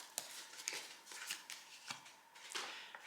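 An oracle card deck is handled, with a card drawn from it: soft papery riffles, slides and light taps in an irregular run of quick strokes, close and quiet, with no talking.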